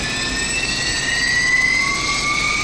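An airliner jet engine starts up in a multi-crew flight simulator game: a loud, continuous turbine roar with high whining tones that slowly rise in pitch as the engine spools, steady and close with no talking.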